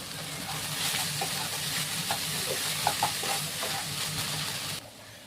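Leafy greens (shak) frying in oil in a pan, a steady crackling sizzle with soft scraping stir clicks, cutting off abruptly near the end.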